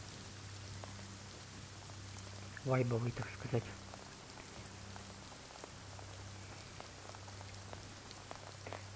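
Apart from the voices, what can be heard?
rain falling in a video game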